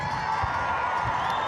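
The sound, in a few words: rugby stadium crowd arriving and making noise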